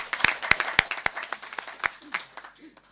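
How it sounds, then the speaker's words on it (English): A few scattered hand claps at a Mossel Bay Municipality council meeting, sparse and uneven, fading out after a couple of seconds. "Can we give Councillor Kwaza a hand of applause for her birthday?"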